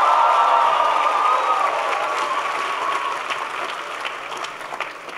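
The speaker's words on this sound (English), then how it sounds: "Please give Emmanuel a big round of applause." Town hall audience with the U.S. President applauds steadily for about five seconds, a dense wash of clapping that starts loud and gradually tapers off, with no talking over it.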